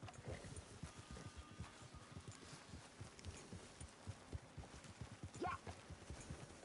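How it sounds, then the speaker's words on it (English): Horse hooves clip-clop in a steady walking rhythm in the Red Dead Redemption 2 video game, soft and continuous under faint ambient background. "Qué bonito es el caballo de Dutch, ¿no?"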